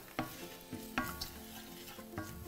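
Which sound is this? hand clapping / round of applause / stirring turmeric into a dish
stirring turmeric into a dish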